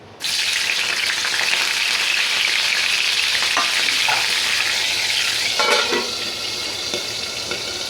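Green chillies sizzle and crackle loudly in hot oil, a constant hissing fry with occasional sharper pops that eases slightly toward the end.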